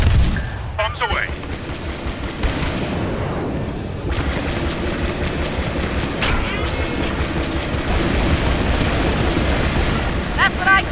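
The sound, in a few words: bombs exploding in the video game Star Wars Battlefront II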